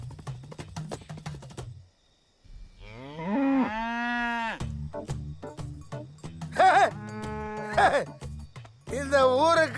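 Water buffaloes moo several times, loud and drawn out, with long low calls rising and falling between short knocking and clattering sounds.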